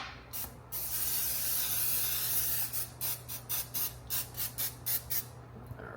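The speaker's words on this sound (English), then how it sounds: "we gotta take our muffin tray and spray some oil on it" A long hiss from an aerosol cooking oil spray onto a muffin tray, then about ten short, evenly spaced spray bursts, close and fairly quiet over a low steady hum.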